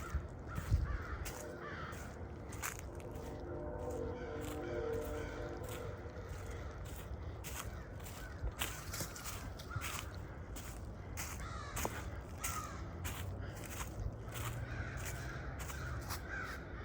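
Crows caw again and again from a distance in the woods at Hog's Back near Conneaut, Ohio, a noisy chorus of harsh calls scattered over steady outdoor background noise.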